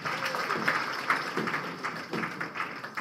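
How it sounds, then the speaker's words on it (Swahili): An audience claps steadily through a ministerial launch ceremony for a national strategy in Tanzania, a dense, even patter of many hands held for about three seconds at moderate loudness. "Makofi tafadhali."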